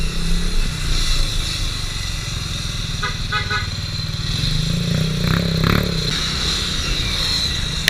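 Motorcycle engine running with a slipping CVT, a steady loud drone with rising rev and clattering mechanical noise, traffic around it.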